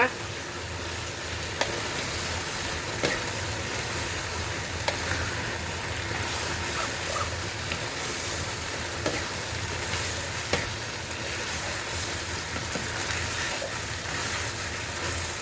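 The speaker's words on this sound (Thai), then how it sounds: "ใส่สปาเกตตี้ลงไปเลยจ้าคลุกเข้าให้เข้ากัน" Spaghetti with vegetables and tuna is stir-fried in a pan, a continuous sizzle with steady frying hiss and periodic scrapes and taps of a utensil tossing the noodles, close and even throughout.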